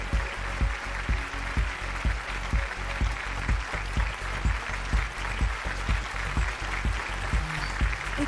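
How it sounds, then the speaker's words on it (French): An audience applauds the launch of a body-makeup line at a staged show, a broad spread of clapping running over a steady, regular low pounding beat that repeats throughout. "Applaudissez bien fort."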